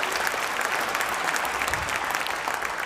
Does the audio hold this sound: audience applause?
yes